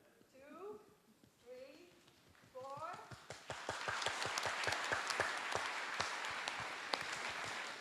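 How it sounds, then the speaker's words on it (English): An audience at a conference plenary session performs a rain clap: after a voice speaks briefly, scattered clapping builds into dense, rapid, rain-like patter that fills the room and stays loud to the end. "Let's do the African rain clap."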